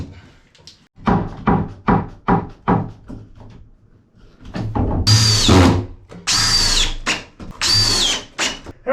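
A power drill drives Robertson stainless steel screws into wood aboard a wooden boat: several short whirring bursts of a motor starting and stopping, followed by three longer, louder high-pitched runs, close by.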